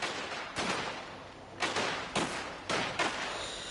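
Bursts of video game gunfire crack out loud and close in quick clusters. Sharp shots repeat about every half second to a second over a dense, noisy background.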